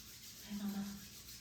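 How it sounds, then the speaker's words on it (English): Palms rubbing briskly together during a self-care yoga session, a soft close swishing friction that swells for about half a second in a quiet room. "So I want you to take your hands and rub them together."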